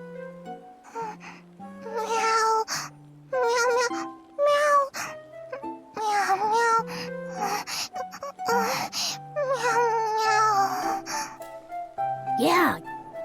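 A high voice repeatedly imitates a cat, a string of soft, nervous meows in the Infinity Nikki video game, mixed with breathy gasps over quiet synth music.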